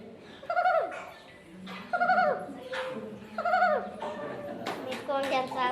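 A human voice imitates puppies, giving a series of high, whining yelps in regular bursts, close and clear.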